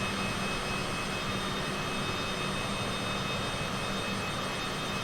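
Jet engines of a Citation CJ4 in Microsoft Flight Simulator 2020 give a steady, loud, unbroken roar with a constant whine layered over it.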